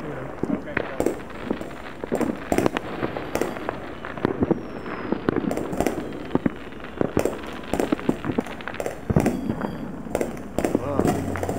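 A July 4th fireworks display in Lompoc, California, 2020: frequent sharp bangs and crackles from both near and far go on throughout, and people talk quietly in the background.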